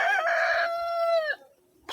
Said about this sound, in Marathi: हे आता आपण हे पाहतो अशा कोंबड्या बघा, ह्या पूर्ण चांगल्या ह्याच्यामध्ये चरतात